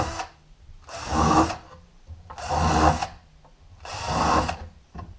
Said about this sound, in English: I'm just going to countersink it just a little bit